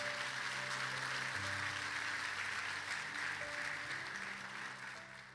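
A church congregation applauds during a Spanish-language sermon, a soft, steady wash of clapping with sustained organ or keyboard chords underneath, tapering slightly at the end.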